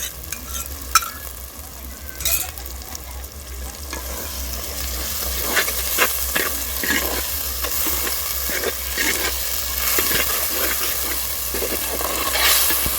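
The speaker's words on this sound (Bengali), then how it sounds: "টক দই দিয়ে কিন্তু আরেকবার ভালো করে নেড়ে নেব।" Chicken curry masala with yogurt stirred in a pan on the stove, a spoon scraping and clacking in steady irregular strokes over a continuous close sizzle of frying, with no talk.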